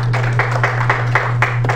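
Audience clapping for a guest lecturer in a lecture hall, a short burst of scattered, moderately loud hand claps over a steady low hum.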